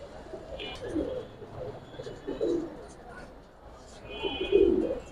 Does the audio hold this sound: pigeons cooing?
yes